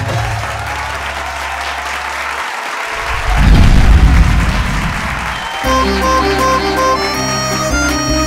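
Loud applause bursts from a studio audience at a televised Odia family game show, swelling for a few seconds in the middle of music and then giving way to the music again.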